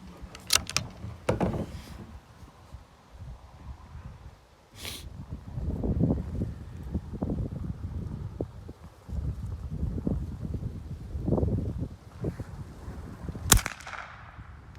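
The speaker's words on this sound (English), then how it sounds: "Trying to block this wind from the camera mic." Wind buffets the camera microphone at an outdoor rifle range where a Mossberg .22 LR with a muzzle brake is being fired, giving low rumbling gusts throughout, with a few sharp cracks at the start and near the end.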